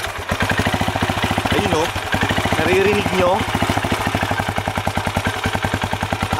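A Benelli Imperiale 400 single-cylinder engine idles with a steady, close, loud chug whose idle speed wavers and fluctuates, with voices talking over it.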